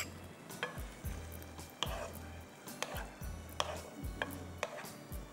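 A knife chops food on a cutting board in a kitchen, a steady series of sharp taps roughly every half second, close and fairly quiet, with no talk.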